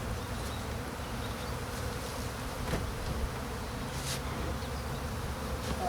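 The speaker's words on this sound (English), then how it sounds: "Well, I suppose that could be because there's more bees." Honeybees in an opened hive at a spring inspection, a dense continuous buzzing drone, close and steady throughout with no talk.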